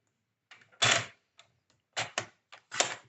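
Paper being cut for a scrapbooking mini envelope, heard as a few short, crisp snips and clicks in an irregular rhythm, close and fairly quiet against a silent background.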